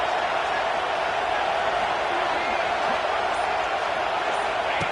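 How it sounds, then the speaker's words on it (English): A stadium crowd roars continuously in a College Football 26 game between Penn State and Oregon, with a dense, unbroken wall of noise near the goal line and a commentator talking over it. "The crowd really making some noise now, trying to help out this defense"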